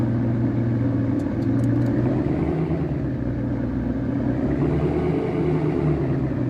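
Car engine running in the Real Car Parking mobile game, a steady low droning idle with a slight rise in revs, loud and continuous, with no talk over it.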